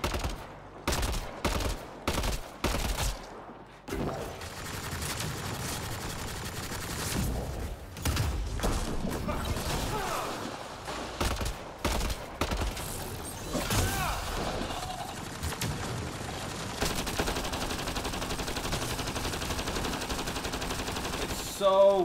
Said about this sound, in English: Let's test out this gun.